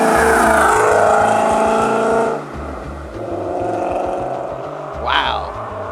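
A Ford Mustang GT engine runs with a throaty, rhythmic exhaust pulse that holds loud, drops, then rises again as it revs, with a sharp whoosh near the end and a voice talking over it.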